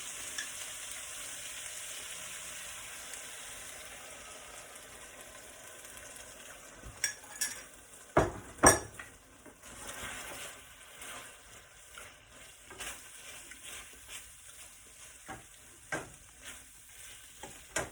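Pepper steak sauce simmering in a pan on low heat, softly sizzling at first, then a spoon stirs through it with a cluster of scrapes and clinks near the middle and more intermittent stirring after, quiet and with no talking.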